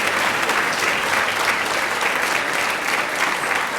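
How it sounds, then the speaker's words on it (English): Steady applause from a room of inductees clapping for their parents at a National Honor Society induction ceremony, dense and even throughout with no voices over it. "can you just applaud your parents?"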